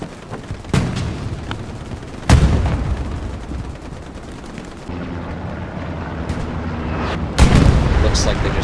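Artillery in the World War II shooter Hell Let Loose: heavy booming blasts land at intervals among rumbling explosions and scattered gunfire, loud and close, with a voice faintly audible in the mix.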